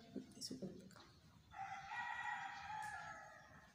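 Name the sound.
rooster crowing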